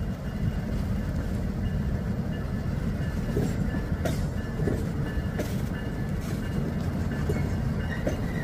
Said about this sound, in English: Trains in the rain.